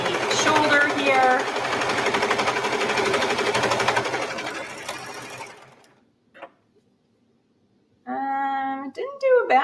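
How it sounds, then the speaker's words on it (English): A sewing machine stitches the shoulder of a sweatshirt dress with a loud, steady, close whir for about five seconds, then falls quiet. A person speaks near the end. "I'm sewing up the rest of the shoulder here."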